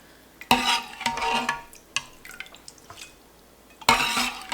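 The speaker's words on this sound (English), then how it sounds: "I'm going to scoop all of my curds into the colander" Mozzarella curds are scooped out of the whey into a clean colander set over a bowl, giving two wet sloshing, splashing bursts, with soft drips and light clatter in between, close up and with no talking.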